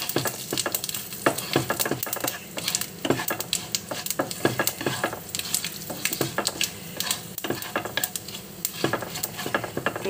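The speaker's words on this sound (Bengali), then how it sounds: "দিয়ে একটু ভাজা ভাজা করে নেব" Fennel, nigella, cumin, fenugreek seeds and dried chilli sizzle in hot oil while a spoon scrapes and stirs the pan in frequent clattering strokes, close and steady throughout.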